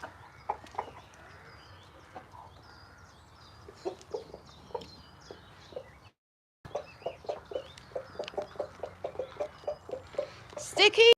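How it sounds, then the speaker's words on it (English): Rooster giving a tidbitting call to hens over food, a rapid run of short clucking pulses that builds toward the end, close by with a brief gap partway through. "that's him telling the hens, Sam, that's him telling the hens there's really nice food"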